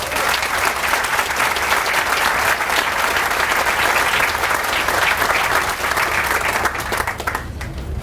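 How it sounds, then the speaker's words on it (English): Sustained, loud applause from an audience at a civic center project groundbreaking ceremony, steady dense clapping for about eight seconds before easing slightly at the end. "Let's give one more round of applause to all of our speakers"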